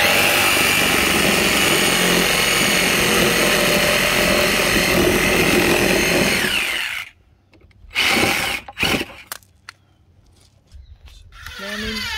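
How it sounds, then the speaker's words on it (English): Power tool cutting a dado into the ends of boards for a garden frame, a loud steady whine lasting about seven seconds, then stopping, with a few knocks and brief sounds afterward. "now I'm going ahead and putting a dado cut in each end so that we can notch those things out"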